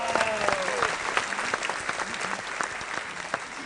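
Audience applause for the winning team on a TV game show, dense steady clapping that fills the whole stretch with a light crowd murmur beneath.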